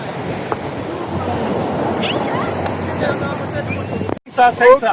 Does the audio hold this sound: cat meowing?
no